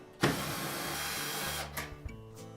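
A power screwdriver whirs steadily for over a second while backing out screws securing a Whirlpool dryer's blower housing inlet, then a few short clicks and buzzes follow; close and alone.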